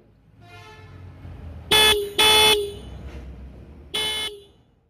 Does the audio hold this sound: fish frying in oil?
no